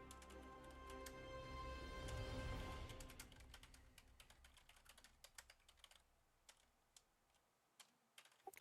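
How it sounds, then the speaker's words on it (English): Typing on a computer keyboard, rapid clicking keystrokes under a brief louder swell of background noise, then sparse separate taps continuing quietly and close by. "Sorry, I was typing."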